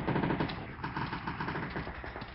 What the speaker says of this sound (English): What is that shooting?